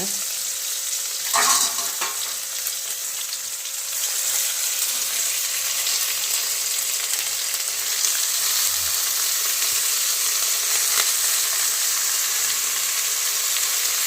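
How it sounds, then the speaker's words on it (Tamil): Palak spinach dropped into a hot pan for dal kadaiyal, a loud hissing sizzle up close that holds steady throughout with a few stirring knocks. "இப்போ கீரையை போட்டுடலாங்க"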